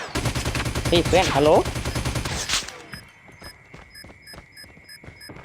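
Call of Duty match with rapid machine gun fire hammering loudly in dense bursts, then thinning into sparser shots as a voice talks over the action.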